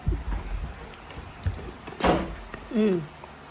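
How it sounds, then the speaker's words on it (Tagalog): A door opens inside a house with a short clack and creaking slide, preceded by a few light knocks and bumps, while voices talk briefly nearby. "Ayan na, narinig ko na pinto."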